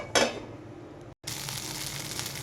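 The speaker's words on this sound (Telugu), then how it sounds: "స్టవ్ వెలిగించి దోశ పెనం పెట్టుకొని కొంచెం ఆయిల్ అప్లై చేసేసుకున్నాను పెనానికి" Thick multigrain dosa batter hits an oiled dosa pan with a sharp splash of sizzle, then a steady hissing fry after a brief silent break.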